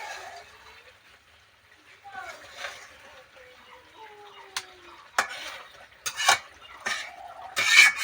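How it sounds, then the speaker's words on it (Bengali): Fish pieces being gently turned in a cooking pot on a village kitchen stove, soft scraping and a few sharp clinks of a utensil against the pot, growing louder toward the end, with faint voices in the background. "মাছগুলো হালকা হাতে আরেকটু উল্টিয়ে দিচ্ছি"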